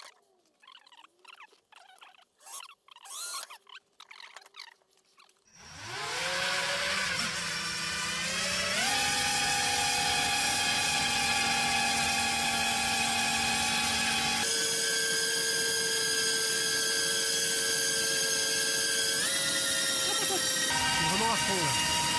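Small drone propeller spinning up with a loud, steady whir that steps higher in pitch, one blade lightly grazing a cable to add a rough scraping edge, after a few quieter clicks and handling noises.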